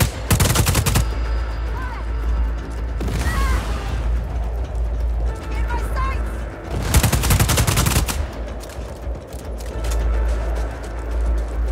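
Mercenary gunfire in the video game Just Cause 4, loud automatic bursts at the start and again midway, with quieter rattling shots and game noise between them.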